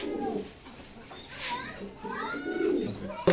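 Maxi pigeons, a racing pair, give soft, short coos and throaty calls close by, interrupted by faint rustling.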